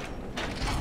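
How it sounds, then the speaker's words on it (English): A sliding door opens in the video game Halo Reach, giving a short mechanical creak and grind that swells midway and ends in a low rumble, fairly quiet with no talk. "That was a good sliding door animation."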